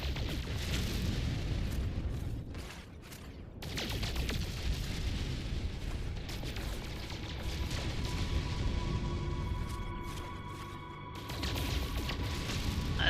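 Rock-blasting in the space game No Man's Sky, a broad rumbling roar of bursts and crackle that runs almost continuously, dipping briefly before building again, with faint tonal game effects layered over it.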